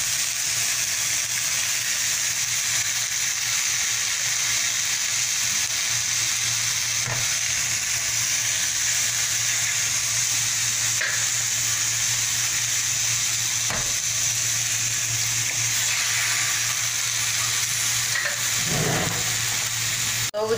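Eggs and spinach fry in a pan, a loud constant close sizzle that holds steady throughout, with a brief scraping stir near the end.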